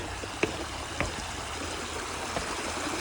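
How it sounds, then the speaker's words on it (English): Spring water at Boiling Springs on the Appalachian Trail gurgles and bubbles up from the ground in a steady close wash of flowing water, with a few faint pops now and then and no voices. "Look, it's like the water's boiling."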